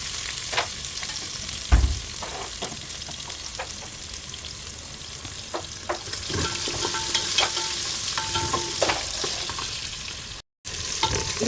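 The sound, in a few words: chopped onions frying in oil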